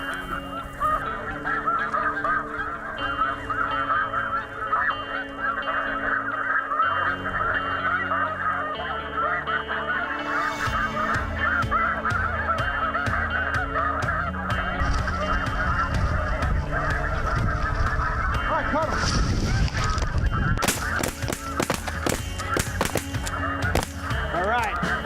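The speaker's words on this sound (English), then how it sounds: "We got geese, guys." Snow geese honk in a dense, continuous chorus overhead during a spring hunt, a loud flock chattering throughout, with sharp bursts and clatter near the end.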